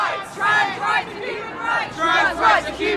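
A loud protest crowd in Southampton shouting and chanting together in rising and falling surges, many voices blending into a continuous roar.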